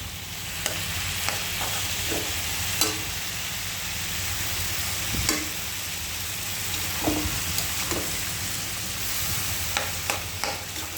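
Red amaranth greens sautéing in a pan, a constant close sizzle and hiss with periodic stirring scrapes and clinks of a spatula against the pan.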